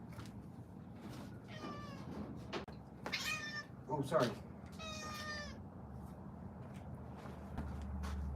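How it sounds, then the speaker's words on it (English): A cat meows several times close by, with short, insistent calls amid quiet room noise; a person briefly speaks. "I apologize if you guys hear my cat."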